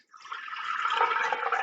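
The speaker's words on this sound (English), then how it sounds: "But if you pour it into a different vessel," Water poured from one container into a different vessel during a states-of-matter demonstration: a steady, close splashing rush that begins abruptly and keeps flowing, alone with no voices.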